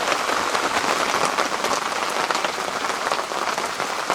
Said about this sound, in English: No, lovely noise guys, rain hitting the tarp.